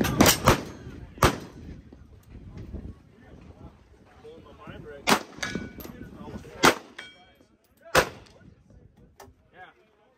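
Rifle shots chambered in 6mm ARC ring out at an outdoor shooting range during an industry day, several sharp cracks spaced irregularly with echoing tails, plus quieter distant shots and murmuring voices between them.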